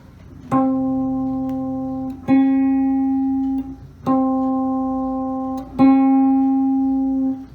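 A single cigar box guitar string is plucked four times at an even pace, each note ringing out bright and sustained before the next, close and clear with no voices.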